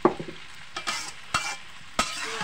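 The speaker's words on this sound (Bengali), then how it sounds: "নাড়িয়ে রান্নাটা শেষ করছে, কারণ নুডলস সব দিয়ে দেওয়া হয়েছে।" Noodles stirred as they fry in a pan, with a sizzle under four or five sharp scraping strokes of the utensil against the pan at uneven intervals, close up and with no voices.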